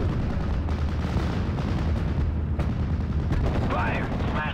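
Gunfire and artillery from the Steel Division Normandy 44 video game, a dense, continuous battle din of rattling shots and deep booms, loud and close throughout.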